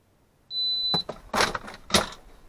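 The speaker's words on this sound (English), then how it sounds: "I'll use this shot timer and we'll show you the shots every time." A shot timer gives a single steady electronic beep lasting about half a second, followed by several loud, sharp bursts of noise nearby.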